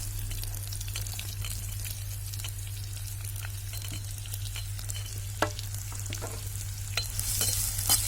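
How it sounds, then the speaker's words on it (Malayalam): Sliced onions fry and are stirred in coconut oil in a clay pot for a clam masala roast, giving a steady close sizzle with scraping stirs and occasional sharp clicks over a low constant hum. "ഇനി നമുക്ക് അരിഞ്ഞു വെച്ച സവാള ഇട്ട് കൊടുക്കാം."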